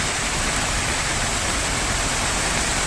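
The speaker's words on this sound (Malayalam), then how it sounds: "എന്താ പെരും മഴ" Heavy rain pours outside Lulu Mall in Calicut as a dense, unbroken roar close to the microphone, steady and loud with no pauses.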